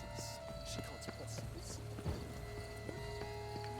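Horse hooves clip-clop at a steady rhythmic pace in The Witcher 3, faint and mid-distance beneath game music and ambience, with a speaker talking over them.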